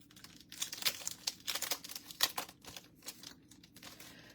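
A plastic tree ring embossing folder being handled for card making, with a series of close, crisp crinkling and clicking bursts of uneven rhythm, quiet and alone.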